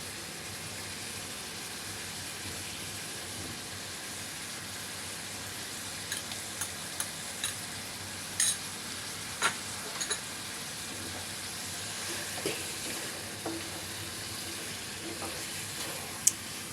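Mutton and mung dal frying in a pan as a ground paste of nuts, cashews and green chilies goes in, a faint continuous sizzle with scattered soft clicks and stirring taps.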